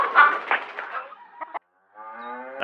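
Manx hens clucking close by in a few short, scratchy bursts, followed after a brief gap by a longer, more tonal call.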